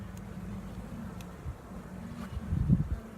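Worker honeybees and a few drones in an opened hive give off a low, steady buzz that swells briefly louder near the end, with faint rustling over it.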